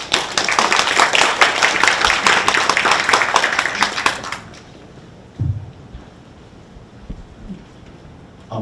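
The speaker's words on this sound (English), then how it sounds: "let us welcome Dr. Cho to give him a warm round of applause." An audience gives a warm round of applause to welcome a guest speaker in a lecture hall, dense steady clapping for about four seconds that stops abruptly, followed by quiet room tone with a few faint thumps.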